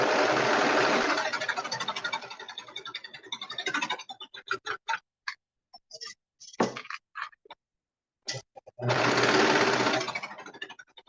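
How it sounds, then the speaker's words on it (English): Sewing machine stitching a color block hoodie: a loud, close, rapid mechanical whir that runs for about four seconds, breaks into short stop-start bursts, then resumes as a steady run near the end. "And I am just sewing this."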